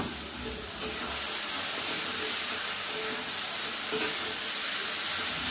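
Mutton hits a pan of fried spice mix in a village kitchen, making a dense, steady sizzle and hiss close by that holds without letup, with a brief sharper spurt near the start and again later.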